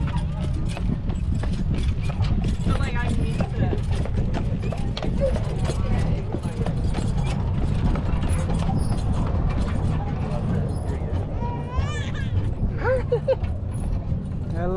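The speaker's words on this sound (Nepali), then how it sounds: "यसलाई चाहिँ घोडाले तानेर" Horse hooves clip-clop steadily as a horse pulls a cart along the waterfront at Victor Harbor, a constant close rhythm with voices murmuring in the background throughout.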